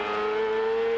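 Alex Zanardi's race car at the Molson Indy Vancouver climbs through the gears, a loud, close, steady engine whine holding one high tone for a brief moment.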